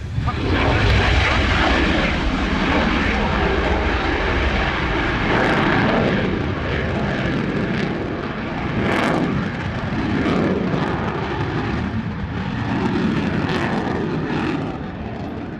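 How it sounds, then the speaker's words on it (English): F-16 fighter jet flying a display at the Royal International Air Tattoo, a loud continuous jet roar with swelling passes and rumbling surges throughout, crowd-level and close. "The F-16, I believe, now setting up for its"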